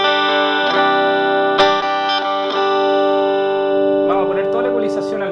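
Electric guitar through an RDS GX-25 amplifier with the mid EQ raised, clean sustained chords ringing on with a few strums and picked notes near the end.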